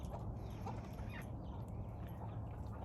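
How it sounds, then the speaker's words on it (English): A young rooster crowing amid a backyard flock in a fall garden, his call faint and distant over a constant low rumble of background noise with soft clucking around him. "Because I got rid of the big, huge roosters, this guy started to crow"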